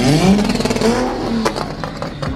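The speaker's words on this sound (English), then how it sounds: "Hamza's car sounds so good, dude." A turbocharged BMW 335i with an aftermarket exhaust revs hard with a throaty, crackling exhaust, pitch rising and falling through a few quick bursts, followed by popping clatter.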